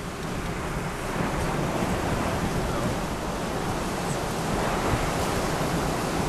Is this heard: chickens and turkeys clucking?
no